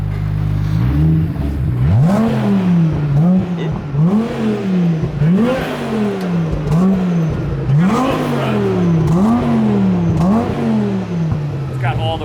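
An Audi TT Clubsport with a 600 HP biturbo engine and AWD revs repeatedly in loud, rising-and-falling bursts, about eight in a steady rhythm, close to the listener, with voices talking underneath.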